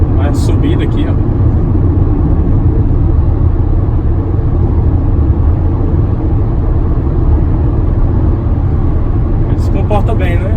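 A 2020 Fiat Mobi 1.0 with a four-cylinder engine pulls uphill in city traffic, its low engine drone steady and loud throughout from inside the car.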